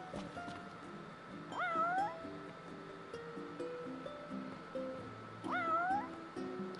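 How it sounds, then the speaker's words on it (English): A cat in the video game Final Fantasy XV meows twice, rising distinct calls over quiet game ambience and soft background music, with no talking. "There's a kitty up here who needs this fish that I just caught."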